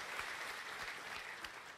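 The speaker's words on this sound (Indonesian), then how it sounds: "Kita kasih tepuk tangan dulu ya buat Tuhan kita Yesus Kristus." Church congregation applauding during a Sunday worship service, a steady, dense wash of many hands clapping that fills the hall at moderate volume without a break.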